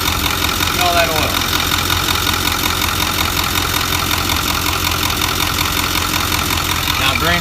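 A salvaged 6.4 diesel engine with blow-by idles steadily and loudly up close, its constant rumble and knocking chatter filling the whole stretch with little change.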